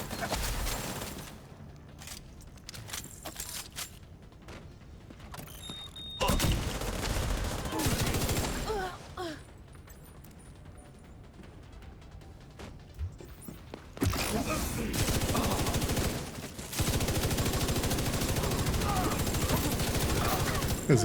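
Gunfire from a weapon pre-fired in a video game comes in loud clustered bursts separated by quieter stretches, with occasional talking.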